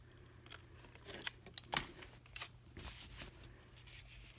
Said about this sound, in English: So I'm just going to need to trim that off.